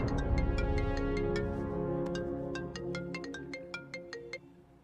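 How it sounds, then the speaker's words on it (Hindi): A phone ringtone plays a bright, plinking melody of repeated notes over music, getting more prominent toward the end. "बिंबी, तुम्हारे लिए कॉल है।"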